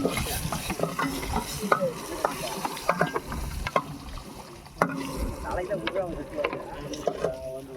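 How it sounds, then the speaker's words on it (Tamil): Onions frying in a pan while being stirred, an irregular run of spoon clatter and scraping over a low sizzle, close and moderately loud. "வெங்காயம் போட்டாச்சு"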